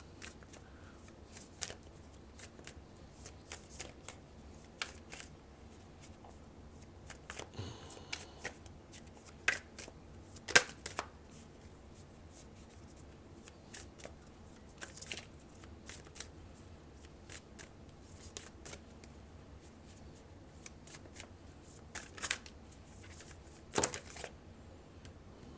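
Tarot cards being shuffled by hand in a quiet room, with repeated soft riffling bursts and card slaps at irregular intervals, close and fairly faint.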